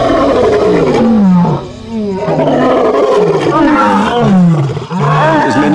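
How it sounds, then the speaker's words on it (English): A lion gives a series of deep, rhythmic roars and grunts, loud and close, with each call rising and falling in repeated heavy bursts. "You cannot get sick of a lion roaring."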